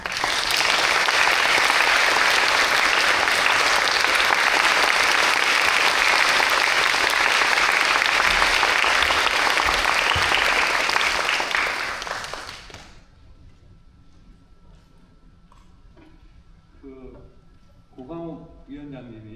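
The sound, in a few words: audience applause welcoming a lecturer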